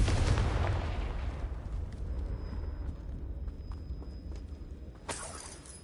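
The Confringo spell explodes in Hogwarts Legacy, opening with a heavy booming blast whose low rumble slowly fades, then a sharp burst with a bright crackle near the end.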